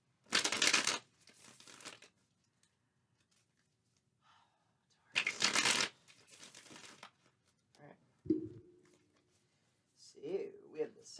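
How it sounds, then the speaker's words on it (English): Tarot cards shuffled in two bursts of crisp riffling and flapping, close and fairly loud, separated by quiet, with brief talk and rustling near the end. "Need a couple shuffles."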